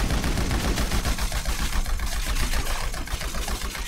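Sustained automatic fire from the Dune FAV's mounted machine gun in GTA 5, a dense, unbroken stream of loud rapid shots continuing throughout.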